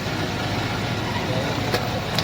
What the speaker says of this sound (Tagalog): Ang ganda ng kondisyon ng makina nito.